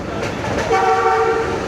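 A passenger train pulls into Badami Bagh railway station in Lahore during heavy early-morning rain, with a steady rolling rumble and a sustained horn-like tone rising through the middle of the clip.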